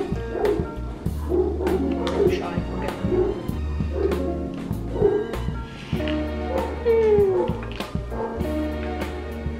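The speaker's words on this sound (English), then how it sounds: "let me hold myself while these dogs bark." Dogs barking in short bursts indoors, several sharp barks and yips at irregular intervals, close and fairly loud, with voices talking in between.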